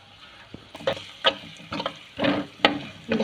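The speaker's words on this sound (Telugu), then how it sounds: "కొద్దిసేపు అయినాక వీటిని మంచిగా ఫ్రై అయ్యేంత వరకు కలుపుకోవాలి" A spiced mixture with chilli powder and garam masala is stirred as it fries in a pan: soft sizzling under repeated scraping strokes of the spoon, close and intermittent, with no talking.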